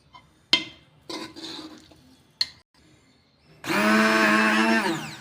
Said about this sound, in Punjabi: ਆਪਾਂ ਥੋੜਾ ਥੋੜਾ ਜਿਹਾ ਗ੍ਰਾਈਂਡਰ ਫੇਰਾਂਗੇ